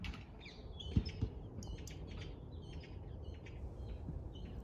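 Robins singing in a spring garden beside freshly mulched beds, a few short high chirps and tweets scattered over several seconds, faint and somewhat distant above low background noise.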